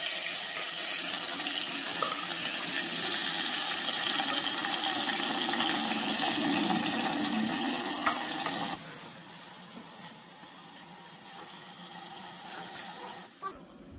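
Water pours steadily into a large pot of soaked rice, about three kilos of water onto two kilos of rice, in a continuous splashing rush that stops abruptly partway through, leaving quiet room noise and a faint clink.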